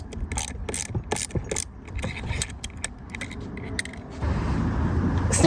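A ratchet clicks in quick bursts while tightening a rear trailing arm bolt on a VW, close and fairly soft, followed by a brief steadier mechanical rumble.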